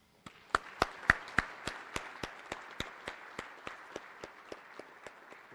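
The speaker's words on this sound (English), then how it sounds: "please join me with a warm round of applause to welcome all of our USREC friends and community partners" Warm round of applause welcoming recruiting command friends and community partners at a US Army Recruiting Command activation ceremony: sparse, evenly spaced claps from a small group, starting sharp and gradually tapering in loudness.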